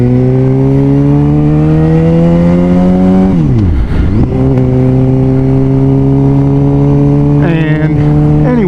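A Suzuki GSX-R750 motorcycle engine runs loud and close, its pitch rising steadily, dipping sharply as the throttle drops, then climbing again with another quick rev near the end.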